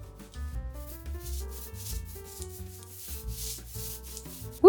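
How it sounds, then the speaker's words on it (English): A wooden children's dresser is hand-sanded with steady, rhythmic rubbing strokes, heard close up beneath background music. "Once everything was sanded"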